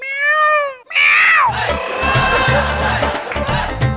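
A cat lets out a clear, close meow, followed by a second strained, rising cry, then busy background noise.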